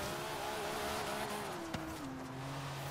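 Engine of a car in Forza Horizon 3 droning as it drifts, tone sliding downward with faint tire squeal and a brief click, fairly quiet and steady, no voices.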